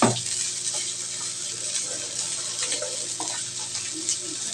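Tap water runs steadily during washing in a home kitchen, a continuous close hiss with faint clinks and low background sounds mixed in.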